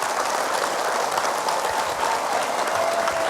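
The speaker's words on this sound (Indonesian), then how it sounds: "boleh tepuk tangan untuk beliau" A studio audience at an Islamic religious talk show gives steady, loud applause for Abi Amir Faisal Fat, a continuous wash of clapping with no pauses.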